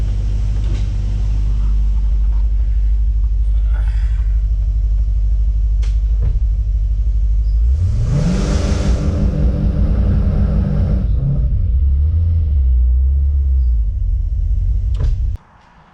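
A Ford XG ute engine idles with a steady low rumble on its first drive, swelling into a louder revving surge near the middle before settling back and cutting off at the end.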